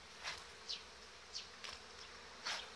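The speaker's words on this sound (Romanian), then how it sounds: "albinuțile mele au început să aducă polen" Honey bees buzz near the hive entrance as they fly in carrying pollen, several brief, close passes rising over a soft, quiet hum.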